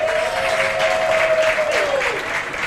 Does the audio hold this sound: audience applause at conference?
yes